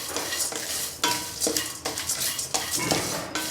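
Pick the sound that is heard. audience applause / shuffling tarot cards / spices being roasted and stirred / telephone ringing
spices being roasted and stirred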